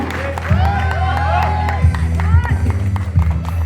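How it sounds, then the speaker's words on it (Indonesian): Applause and cheering from an audience at an elementary school third-grade dance and drama exam performance, with crowd noise and whoops. Children's voices and speech with harmonic shouts run over the clapping throughout. "tepuk tangan yang meriah."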